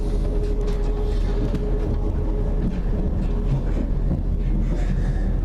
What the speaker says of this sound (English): If you're wondering why this part of the train is so quiet, the engine's failed.